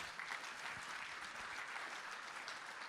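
Sustained applause from a conference audience at a cybersecurity event, a steady, dense wash of clapping at moderate distance that carries on without a break and has no talk over it.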